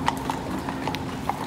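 Steady clip-clop of horse hooves on pavement in Vienna, a regular walking rhythm of sharp knocks over a constant background of city hum.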